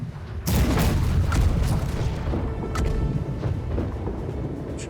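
Cannon fire in a pirate video game, one heavy boom that opens into a long rumbling roar, then a few lighter crackling hits over continuing low rumble, loud and close.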